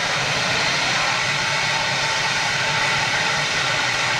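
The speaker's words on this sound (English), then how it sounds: "747 about to go, only going to Glasgow" A Boeing 747 jet taking off for Glasgow, a loud, steady broadband engine roar that fills the whole stretch without a break, close and dominant with no voices.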